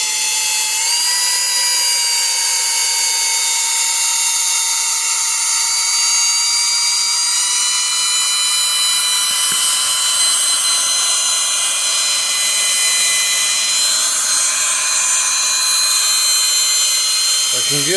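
A power drill whirs steadily at high pitch, mixing thick peanut butter chocolate fudge in a bowl, a loud continuous whine with slight speed changes throughout.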